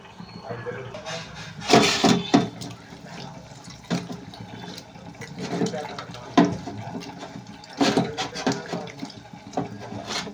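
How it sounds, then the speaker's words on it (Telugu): Tamarind water splashes into a pot of prawn curry in a series of short pours and gurgles, with pauses and light clatter between them, fairly close. "ఇప్పుడు చింతపండు వాటర్ అయితే ఈ పులుసులో అయితే అదే దీంట్లో అయితే వేసుకుని కొంచెం మరగనిచ్చుకుందాం"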